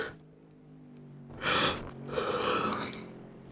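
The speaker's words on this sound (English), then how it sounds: "Nah, that was me yawning." A person yawning during a racing stream commentary, a drawn-out voiced breath rising and falling in two swells, close and fairly quiet, with no speech.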